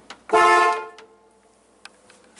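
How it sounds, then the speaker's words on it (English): A single loud car horn honk, about half a second long, from a car with a newly connected battery and faulty horns, followed by a few faint clicks in an otherwise quiet space. "that's honking right now"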